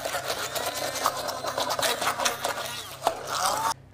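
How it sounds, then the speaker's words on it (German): A stick immersion blender purees softened celery into a fine mousseline, a steady close motor whir with grinding and rattling texture throughout, cutting off abruptly near the end. "Mein Sellerie ist schon weich, den muss ich eigentlich nur noch pürieren. Dafür darf mein Stabmixer auch wieder herhalten."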